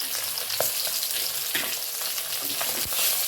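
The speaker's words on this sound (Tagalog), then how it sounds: "Tapos may prito akong isda. Ayan, pritong isda." Steady crackling sizzle of fish frying in hot oil, with occasional sharper pops, close and moderately loud.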